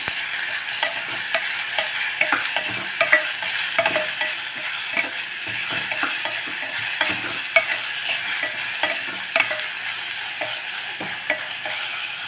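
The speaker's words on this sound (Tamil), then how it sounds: "கொஞ்சம் கேப்சிகம் ஆட் பண்ணிடலாம் அதில் ஏன்னா கேப்சிகமும் எண்ணெயில் வதங்கிடுச்சுன்னா சீக்கிரமாக வந்துடும்" Capsicum sautéing in hot oil for tomato rice, with a steady close sizzle and repeated sharp scrapes of a spoon stirring the pan throughout, no voices.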